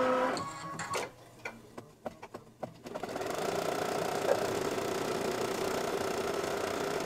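An embroidery machine sews a phone case, first with a few separate clicks and thumps as it sets up, then with a steady, fast mechanical whir close by.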